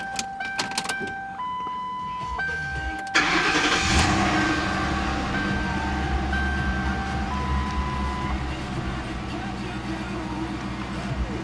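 A 2008 Ford Crown Victoria Police Interceptor is started: dash chimes beep first, then the starter cranks and the V8 catches with a loud burst before settling into a steady idle that runs on.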